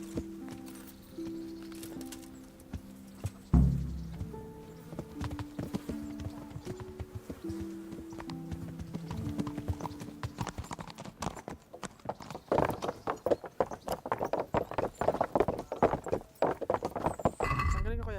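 Horse hooves clip-clopping during riding in the medieval video game Kingdom Come Deliverance: a quieter stretch with tonal game music gives way to increasingly loud, rapid hoofbeats, with voices faintly present.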